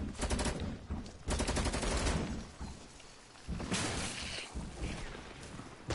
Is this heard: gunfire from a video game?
yes